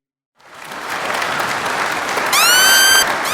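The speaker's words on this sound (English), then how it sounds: "Clap for me, bitch." Loud applause from a comedy podcast audience bursts in after a brief silence and holds steady for about three seconds, with a sharp whistle rising over the clapping near the end.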